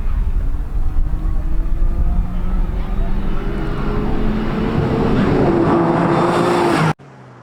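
A diesel race car's engine roars loudly and steadily during a race, with a rising drone that builds in pitch before cutting off abruptly near the end.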